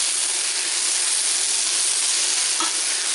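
Onions frying in a pan, meant for stuffed msemen with tuna, give off a dense, even, close hiss of sizzling oil with no pauses or speech.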